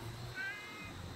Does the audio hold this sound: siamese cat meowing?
yes